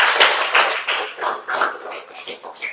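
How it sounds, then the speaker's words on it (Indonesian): Classroom students clapping for a classmate, a close, lively burst of uneven hand claps that rises and falls in loose waves for a few seconds. "kasih tepuk tangan untuk teman kita"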